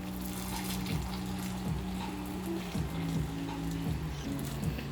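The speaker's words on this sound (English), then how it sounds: "I've got it submerged in a bigger bowl, and just drop the boiling water" Boiling water poured into a bigger bowl holding a submerged container, a steady splashing trickle with soft gurgles and drips, close and alone under a low background hum.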